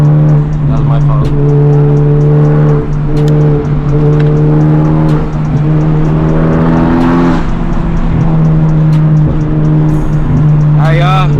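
Sports cars, including a Ferrari and Honda Civic Type R models, drive a canyon road; a loud engine drones and revs steadily up close, with gear changes and another car passing, while people talk over it.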